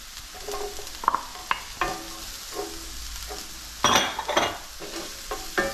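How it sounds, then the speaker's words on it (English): Chinese sausage (lup chung) stir-fried over high heat with browning garlic and onions, a soft sizzle under scattered scrapes and clatters of the utensil, with a louder burst of tossing near the end. "In with the Lup Chung. My heat is on high. Mix that around."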